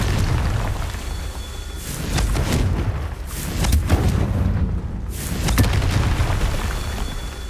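Confringo fire spell blasts in Hogwarts Legacy, a series of heavy booming explosions arriving in waves with rumbling tails, loud and full with no talking.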